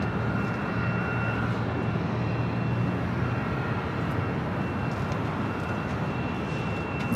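A China Southern Airlines Boeing 777-300ER jet at Los Angeles International Airport gives off a loud, steady engine roar with a low rumble and a faint whine, continuous throughout and without voices.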